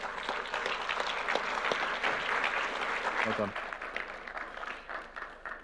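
Audience applause at a panel debate on Ukraine at a Liberal International congress, a sustained broadband patter of many hands filling the room, steady then gradually thinning, with a brief spoken word partway through.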